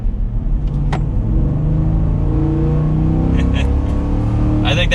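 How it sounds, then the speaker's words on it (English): A 2021 Ford F-150 XLT with a V8 engine produces a deep, steady exhaust drone from inside the cab while driving slowly, with a few faint clicks and rattles over the low rumble. "So with the V8, we're going to slow down a little bit and listen to this exhaust note."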